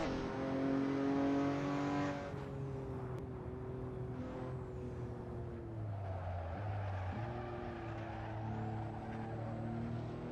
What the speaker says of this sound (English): Here's the end of our outlap in the only true American supercar, the Ford GT.